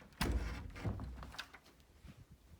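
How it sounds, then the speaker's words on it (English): Knocking on a junior kindergarten classroom door: two close, dull thumps about two-thirds of a second apart, followed by quieter rustling. "Knock, knock."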